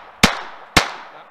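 Two sharp, loud pistol shots from a Glock 44 .22 handgun, about half a second apart, each cracking out and ringing off in a short decaying tail outdoors during target shooting at cans.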